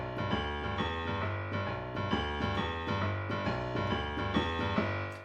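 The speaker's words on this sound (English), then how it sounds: "Another left hand pattern that I haven't done a lesson on yet is Boogie Woogie" A boogie woogie pattern played with two hands on piano, a quiet, steady, rolling bass figure repeating in even rhythm under chords from the right hand, with no talking.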